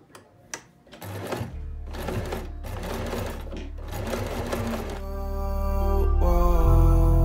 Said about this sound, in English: So right now I'm going to sew it where I put the pins to put them together.